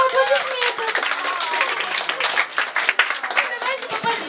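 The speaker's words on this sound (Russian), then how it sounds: "Это достойно аплодисмента." Audience clapping and applause at a staged comedic event in Omsk, steady dense patter of many hands close by, mixed with voices talking over it.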